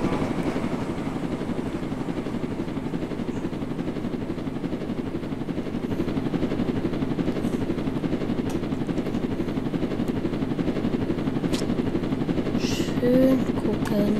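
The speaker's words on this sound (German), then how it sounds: "Und wir können Hubschrauber fliegen." Helicopter flying in the Roblox game Jailbreak, a steady rapid rotor chop droning continuously for the whole stretch at moderate loudness, with a few brief game blips near the end.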